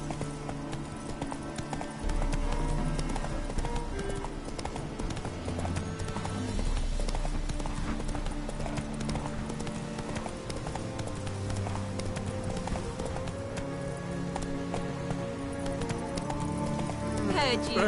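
Hooves clip-clop in a quick rhythm as a horse gallops in The Witcher 3, with steady rumbling movement underneath and a voice speaking at times over the hoofbeats.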